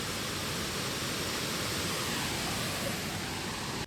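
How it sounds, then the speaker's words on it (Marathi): A steady, full rush of water roars continuously, dense and close, like a waterfall pouring without pause. "पाण्याचा आवाज किती छान येतोय"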